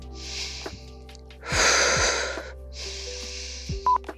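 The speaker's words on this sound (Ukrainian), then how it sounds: "Більше роботи дихання." Heavy, forceful breathing during a posture-correction exercise, with three loud breaths that sound like deep exhales and rasping inhales, spaced about a second apart, close to the microphone.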